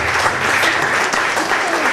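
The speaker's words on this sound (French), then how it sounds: "On peut encore applaudir Rita." An audience claps steadily at a live hypnosis show, a dense, even burst of applause lasting about two seconds.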